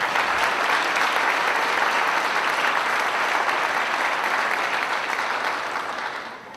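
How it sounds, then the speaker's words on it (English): Sustained, dense applause from a large audience at a Memorial Day ceremony, loud and even throughout, tapering slightly at the end. "Let's give them another round of applause."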